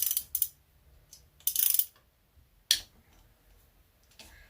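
A wrench ratchets on a 10mm bolt near a variable valve timing solenoid in a car engine bay, producing a few sharp, close clicking bursts separated by quiet pauses.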